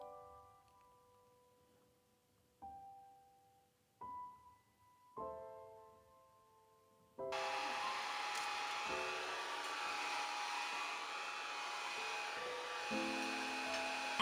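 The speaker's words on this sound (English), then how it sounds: "A hairdryer has helped loosen the glue from the page." A hair dryer, used to loosen glue from a paper page, starts with a few short whirring bursts, then roars continuously at full blast, loud and close.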